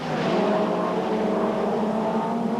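A 1990 British Touring Car Championship racing car with well over 500 horsepower roars steadily at close range, a dense continuous engine drone holding a sustained high-revving tone throughout without a break.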